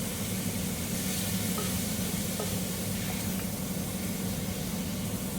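A liver curry sizzles steadily in the pan after coriander powder and garam masala go in, giving a dense, even hiss of frying that continues unbroken at moderate loudness with faint stirring.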